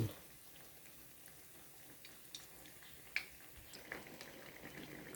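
Banana fritters (maruya) frying in a pan of hot oil, a soft steady sizzle with faint scattered pops and ticks, quiet and close, with no voices.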